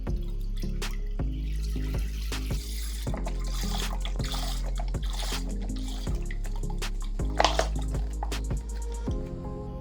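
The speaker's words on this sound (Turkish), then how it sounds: "Bunun için önce şöyle görmüş olduğunuz 1 litre sütümü içerisine boşaltıyorum." One litre of milk poured into a pot for a Turkish etimek pudding dessert makes a steady, close liquid splashing and gurgling that runs unbroken throughout, with no voices.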